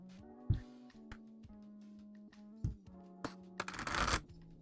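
Cloud tarot cards are shuffled by hand in several soft riffles and taps, close and quiet, with a louder flurry of shuffling near the end and no talking.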